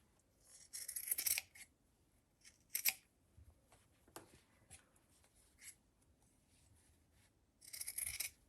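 Scissors snip through fabric while cutting out an Easter bunny gift bag, in a few quiet, close crisp cuts separated by pauses, with soft handling rustles between.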